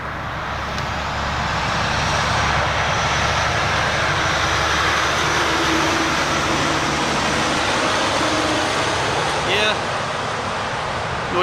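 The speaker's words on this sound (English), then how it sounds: "Yeah, noisy traffic." Steady, loud roar of passing traffic fills the air near the Delaware Canal, a continuous broadband wash with no breaks and a faint brief chirp near the end.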